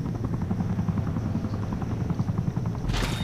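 Helicopter in the video game Batman The Dark Knight Rises: a steady rotor thump and engine drone, loud and constant, ending in a burst of noise.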